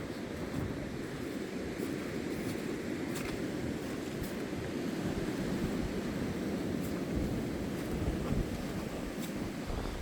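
Steady wind blows across open water near boats, a continuous broadband rush with low rumbling microphone buffeting and faint surf-like wash throughout, no talking.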